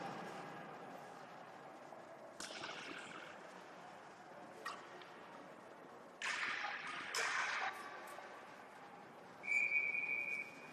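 A referee's whistle sounds at a U16A youth ice hockey game between Orangeville and Owen Sound: a single short, shrill blast near the end, fairly faint over the arena's hum and scattered bursts of noise.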